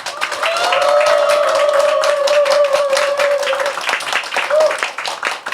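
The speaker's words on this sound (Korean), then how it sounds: "뜨거운 박수로 맞이해 주세요" An audience claps to welcome authors onstage at a teachers' book concert, steady dense applause throughout, with a sustained tonal hum and a voice layered over the clapping.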